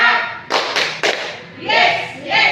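A classroom of students performs a rhythmic 'tepuk semangat' clap, with a few sharp, loud group claps landing together in a short pattern between bursts of chanting voices.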